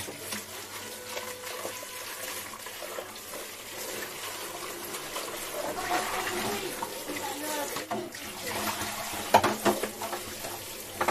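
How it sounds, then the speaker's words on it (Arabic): Running water pours from a tap while a table is washed down in a home, a steady, close splashing hiss that runs throughout with brief clatters near the end. "غادي نغسل هاد الطاوله"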